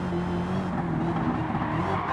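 The supercharged engine of a race car in a racing video game whines loudly and continuously, with a steady tonal drone and some tyre noise as it drives.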